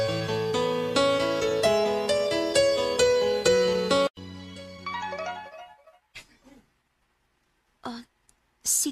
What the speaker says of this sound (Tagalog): Si Tito Andre nag-text